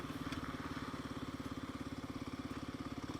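A Kawasaki KLX 300 dirt bike ridden through charred, burnt-out ground puts out a steady, rapid single-cylinder engine pulse, fairly close and even, with no talk.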